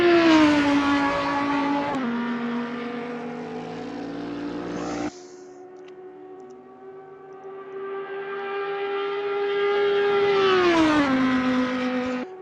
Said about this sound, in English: the distinctive sound of the different engines and the different cars